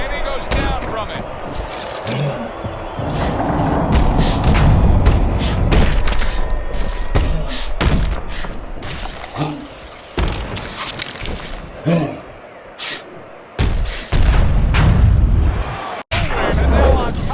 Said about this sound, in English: he just floored him with that punch